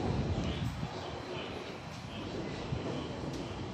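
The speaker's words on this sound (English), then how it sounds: "There's a train here just leaving." A London Underground train pulling out of a station, a steady, dense rumble with faint rail clatter and no distinct squeal, heard from the platform close by.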